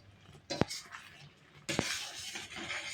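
A spoon scrapes and knocks against a pot as coarsely pounded spices are mixed into a sweet-and-sour mango pickle. A few sharp clinks stand out over soft, continuous stirring.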